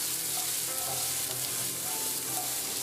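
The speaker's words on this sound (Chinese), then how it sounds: "再下入青红辣椒，翻炒至断生" Pork belly stir-fried with green and red chilies sizzles steadily in a hot wok, with a few soft scrapes from the spatula over the continuous frying hiss, close and alone without voices.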